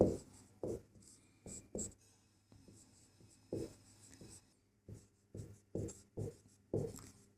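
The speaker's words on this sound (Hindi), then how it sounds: "तो यहाँ हम लिखते हैं हल।" Pen writing a math solution by hand on paper, a series of short scratchy strokes in irregular bursts, close and fairly quiet, with no talk.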